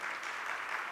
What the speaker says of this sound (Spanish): Damos un fuerte aplauso a Catalino Correa Iciano.